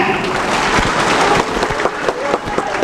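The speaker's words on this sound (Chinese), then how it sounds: "掌声鼓励一下" An audience at a veterans' day event in a school hall breaks into loud, dense applause, a sustained wash of clapping from many hands close by.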